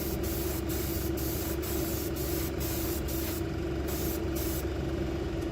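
Steady airbrush hiss of fabric paint being sprayed, continuous and close, with a constant compressor-like tone underneath and brief interruptions in the airflow; no talking.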